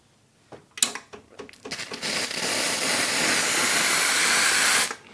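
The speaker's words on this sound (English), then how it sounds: "as soon as you press the button, steaming will start" The steam wand on a Zuriga E2 Gen 2 espresso machine sputters in a few short bursts, then settles into a loud, steady, close hiss that runs for about three seconds before cutting off abruptly.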